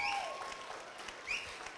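Wedding guests at a Toronto reception give a short, steady burst of applause for the father of the speaker, with a couple of thin whistle-like tones riding over the clapping.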